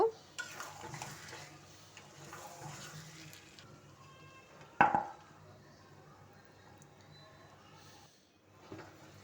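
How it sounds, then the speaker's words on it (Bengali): Moong dal and beef curry being sautéed in a pot, with soft stirring scrapes, a sharp clank of a utensil against metal midway and low background noise; a voice murmurs faintly at times. "এখন মুগ ডালগুলো দিয়ে দিলাম, আরও 5 মিনিট কষিয়ে নেব"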